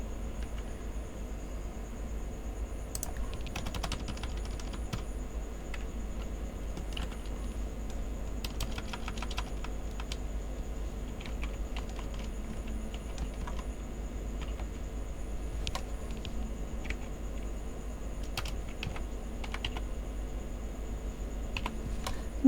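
Steady typing on a computer keyboard, with quick, uneven key clicks running throughout over a constant low hum, close and clear, with no voices.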